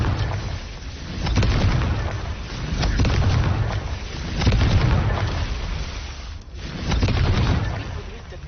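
Confringo blasts in the Hogwarts Legacy video game: a continuous roar of repeated booming explosions swelling in waves, loud and dense throughout, with voices mixed in among the game sounds.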